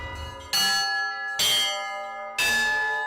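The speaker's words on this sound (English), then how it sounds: "People assume to ring a bell at the church is just by pulling one rope and one bell," Church bells rung by ropes at a church in Unalaska, Alaska: three loud, bright clangs about a second apart, each ringing on with a long shimmering decay, no voices.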